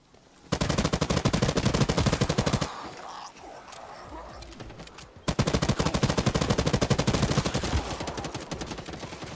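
Rapid automatic gunfire aimed at creatures in a PvPvE shooter game, two long loud sustained bursts separated by a short lull, close and dense.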